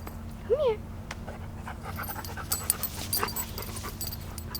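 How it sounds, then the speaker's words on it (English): A dog named Rufus pants close by and gives a brief high whimper early on, with faint rustling and background noise around it. "Rufus is a dog"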